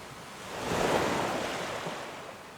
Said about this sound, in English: here we have the waves coming in at random intervals